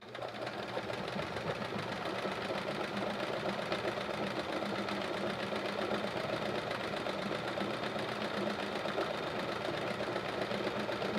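A home sewing machine runs steadily throughout, stitching free-motion quilting in a large circle, a continuous close mechanical whir and rapid needle clatter at even loudness with no talk.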